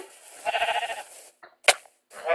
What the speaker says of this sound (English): Stop it, sheep, right now!